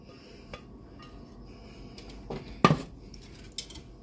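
A spoon scraping and clinking against a pot while jalapeno peppers are stirred, mostly quiet shuffling with one sharp metallic knock near the end.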